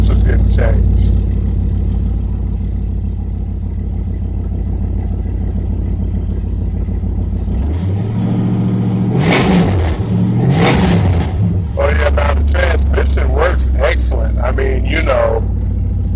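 A 1999 Dodge Dakota R/T engine idles with a deep rumble, then revs repeatedly in loud bursts through a 2.5-inch exhaust system, with a person talking over parts of it.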